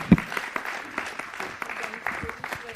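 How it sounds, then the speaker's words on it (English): A city council chamber audience claps for a young woman from the Student Advisory Committee being recognized; scattered, uneven claps, a sharp one near the start, with some talking mixed in. "Give her a great big round of applause."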